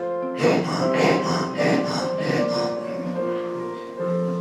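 A person imitates a leopard's rasping, sawing call with their voice: about five rhythmic, breathy grunts in quick succession, close and fairly loud, over a steady background of sustained musical tones that carry on after the calls stop.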